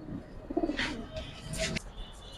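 A silver Giribaz pigeon offered for sale coos softly at close range in a few short, throaty bursts over faint background noise.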